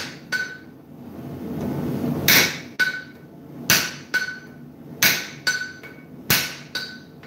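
A flatter hammer strikes hot steel while forging Viking runes, landing about nine sharp, ringing blows at an uneven pace. The blows are close and loud over a low background hum.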